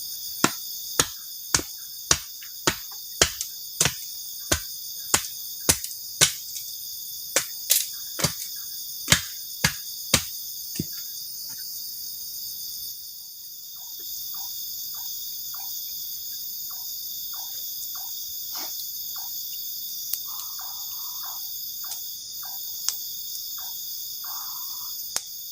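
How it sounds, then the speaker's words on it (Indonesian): Crickets at a night campsite keep up a constant high, shimmering drone, with sharp, evenly spaced clicks through the first half that give way to fainter, scattered ticks; no one speaks. "ditemani sama suara jangkrik juga"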